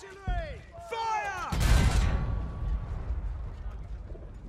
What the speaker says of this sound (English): All artillery! Fire!